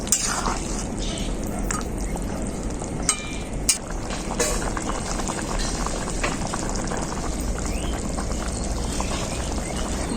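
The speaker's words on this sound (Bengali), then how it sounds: "মাছটা দেওয়ার পর ঝোলটাকে খুব ভালোভাবে ফুটিয়ে নিয়েছি" Rui fish and taro curry bubbling steadily in a pot, a continuous close simmer with faint popping and a few sharp clinks of a utensil.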